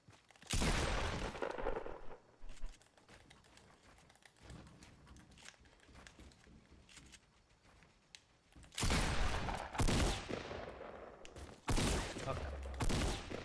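Bursts of automatic gunfire in a Fortnite match, loud volleys at the start and again near the end with quieter scattered shots between and faint voices under it.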